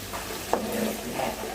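A spoon stirs chicken liver fry with ginger garlic paste in a pan, soft scraping strokes over a low, steady sizzle, with one sharper knock partway through.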